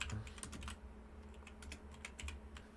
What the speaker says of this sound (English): And so now what I'm going to type is